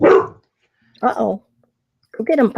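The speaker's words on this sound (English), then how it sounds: "That's my dog talking to you" Dog barking indoors in three short bursts spaced about a second apart, loud and close, with a voice speaking briefly between them.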